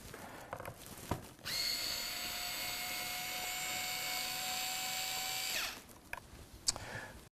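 A power drill runs steadily for about four seconds, a loud continuous high whine backing screws out of an old tremolo plate on a guitar during a Floyd Rose Rail Tail installation, with brief handling clicks before and after.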